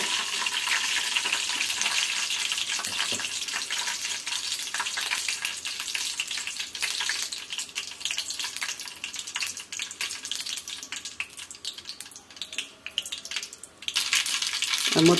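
Mustard seeds and a little dal spluttering in hot oil for a tempering, a steady dense crackle and sizzle with a few drops of water in the pan, close and continuous, briefly louder near the end.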